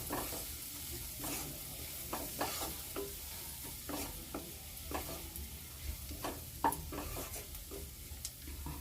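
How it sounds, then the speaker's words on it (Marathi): Spices and coriander are stirred into hot oil in a pan for jackfruit bhaji, a continuous close sizzle broken by repeated scraping strokes of the spoon, with no one speaking. "मिक्स करून घेऊया छान मसाले"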